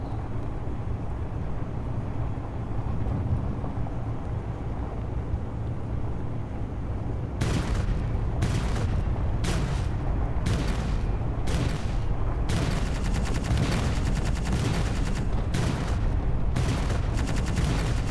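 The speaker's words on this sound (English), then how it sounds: "Stop shooting the base, jerk." Gunfire at a base in the video game Conflict Europa: a steady low rumble gives way after a few seconds to repeated sharp bursts of shooting, loud and close, recurring in irregular clusters.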